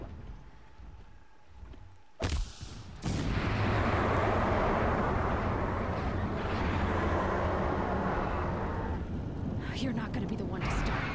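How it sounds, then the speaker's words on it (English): Distant explosions rumble in the Horizon Zero Dawn video game, a loud sustained roar that swells after a short sharp burst and carries on to the end, with speech at the start. "Explosions in the distance."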